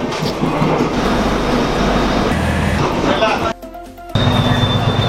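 A train rumbling past nearby at the Pulau Aie station in Padang, Indonesia, steady loud roar with a brief drop in noise before it resumes, no one speaking.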